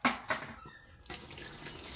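Water runs into a Sharp washing machine, a soft, steady rushing flow with a couple of brief knocks near the start and a slight change partway through, faint and without talk.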